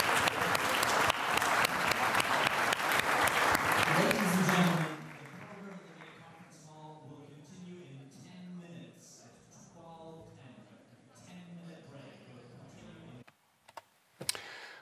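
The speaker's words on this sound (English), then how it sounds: "A big round of applause." Audience applause after a panel discussion at the Munich Security Conference 2024, dense and loud for about five seconds before fading into a presenter talking over a quieter room.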